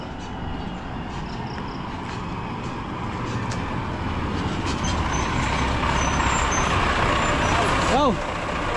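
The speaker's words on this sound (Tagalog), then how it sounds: "Oh, meron itong garbage collector." A garbage collection truck passing on a road near a highway, its heavy engine rumble growing louder and closer, with a brief hiss or squeal near the end and a voice talking over it.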